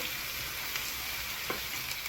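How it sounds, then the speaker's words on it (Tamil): Carrots and potatoes fry in hot oil, a constant close sizzle and crackle with a few soft stirring clicks. "இப்போ வந்து வெங்காயம் சொல்லி உருளைக்கிழங்கும் கேரட்டும் வந்து பொரிஞ்சிட்டு இருக்குது."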